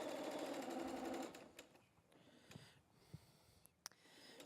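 A sewing machine chain-pieces quilt pieces in a fast, even whir of stitching for just over a second, then stops, followed by a few faint clicks and handling sounds nearby.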